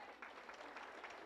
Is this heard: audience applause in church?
yes